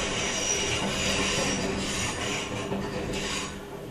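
A train rolls past with its wheels squealing and grinding on the rails, a loud, continuous metallic screech and rumble that fades slightly toward the end, with no voices.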